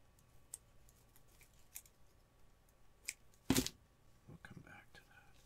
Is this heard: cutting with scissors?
yes